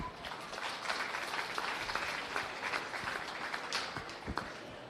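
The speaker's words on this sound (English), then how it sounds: "let's give them applause" Applause from a crowd at a 4-H goat show in Adams County, a steady wash of many hands clapping through the whole stretch, fairly distant and even, with a few sharper claps standing out near the end.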